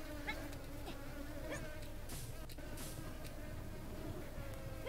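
Flies buzz steadily in Supraland, a continuous droning whine that stays at an even level throughout, with a few faint clicks and game sounds underneath and no speech.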